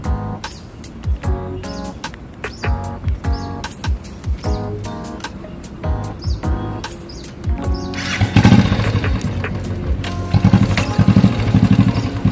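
A motorcycle engine is cranked through a series of short sputtering attempts before catching and settling into a louder, steady idle rumble.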